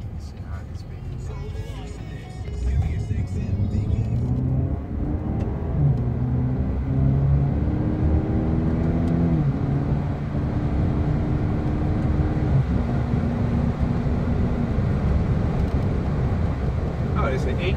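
A Cadillac CTS 2.0 turbo with an eight-speed transmission accelerates in sport mode, its engine note climbing and dropping through several gear changes in a steady interior rumble, with a voice talking over it.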